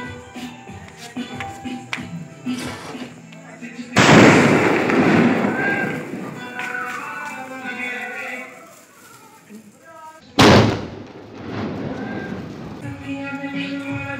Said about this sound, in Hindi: हमने बड़े वाले स्काई शॉट को चलाया था वो बहुत ही तगड़े आए, यानी यहाँ पे फट गया